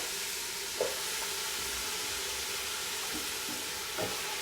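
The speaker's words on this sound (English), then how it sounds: "I'm gonna add all my vegetables in here." Chopped vegetables sizzle softly in a soup pot, making a faint, steady hiss with a couple of light knocks from stirring.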